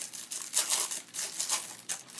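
A plastic bag crinkles and rustles in short, irregular bursts as a gift is unpacked, close and moderately quiet, with no talk over it.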